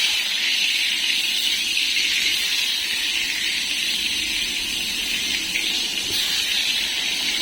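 Eggplant slices seasoned with salt and turmeric frying in hot oil, a steady broad hiss and sizzle running unbroken and fairly loud throughout.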